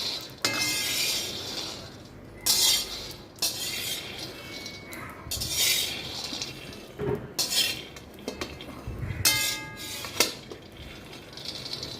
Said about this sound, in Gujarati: તો એક કડાઈમાં આપણે તેને મીડિયમ ફ્લેમ પર શેકી લઈશું